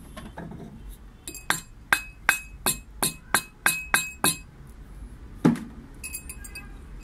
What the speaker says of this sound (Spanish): Y se le da una serie de martillazos con una madera bastante dura